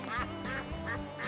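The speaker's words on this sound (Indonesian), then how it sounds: "Suara bebek." A duck quacks three or four times in a rhythmic series, fairly close, over a faint background hum.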